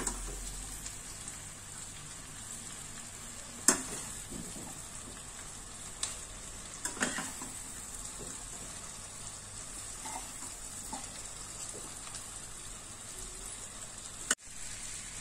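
Okra (bhindi) being stirred slowly into frying masala in a pan gives a steady, soft sizzle throughout, with a few sharp scrapes and knocks of the spoon against the pan, and no talking.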